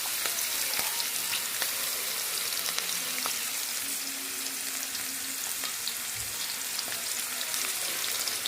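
Onions sizzle steadily in hot oil during tempering for a tomato huli, a continuous close frying hiss with occasional crackles and pops, with no voices.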